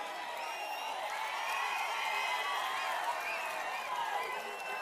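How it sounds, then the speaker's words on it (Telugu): A large crowd claps and cheers at a TDP election public meeting in Amalapuram, a steady, dense roar of applause with whoops that holds at a constant level throughout. "గట్టిగా చప్పట్లు కొట్టి మేమందరం ఓట్లేస్తామని"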